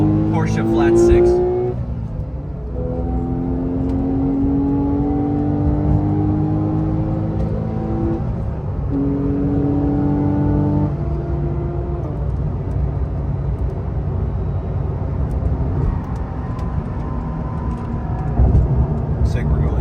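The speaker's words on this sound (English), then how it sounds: "we can start to hear that beautiful Porsche flat 6" A Porsche flat-six engine drones steadily from nearby during a road rally in Fort Lauderdale, with gear-change rises in pitch and a constant loud rumble throughout.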